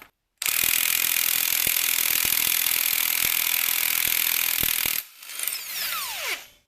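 Impact wrench fitted with a 24 mm socket hammering loose the harmonic balancer bolt on an LS engine: one loud, sustained rattling burst of about four and a half seconds, then an abrupt stop and a short falling spin-down whine.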